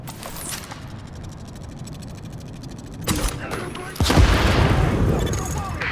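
Sticky bomb explosions from The Division's tactician build go off in a busy firefight, with sharp blasts around three and four seconds over mechanical clatter and rumbling background.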